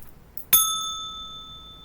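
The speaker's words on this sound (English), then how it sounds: "I'm going to ring this bell so we can cleanse our energy" A single bell struck once to cleanse energy in a spiritual angel-message session, a sharp bright strike that rings on with a long sustained tone, fading slowly after a quiet moment.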